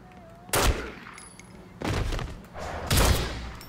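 Pistol gunshots from a video game set in El Padrino fire in three short bursts of sharp cracks with brief pauses between them, with no talk.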